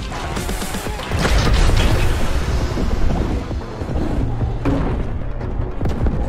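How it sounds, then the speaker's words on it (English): Heavy missile blasts from the Vengeance launcher in Warhammer 40K Boltgun: a loud, dense crash and boom swelling after the first second, sustained rumbling impacts with crackling debris, a few fainter thuds trailing off. "it's not a lobbing grenade launcher, it's like a missile launcher"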